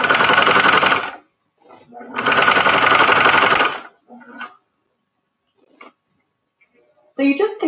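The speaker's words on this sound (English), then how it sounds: "sewing all around your entire face mask" Sewing machine stitching a shower curtain face visor, running in two long buzzing bursts of about a second and two seconds, then short stops and starts, close up.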